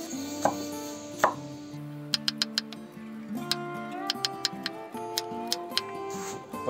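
Knife chopping carrots into rings and strips on a cutting board, a series of crisp irregular taps close up, with background music playing underneath.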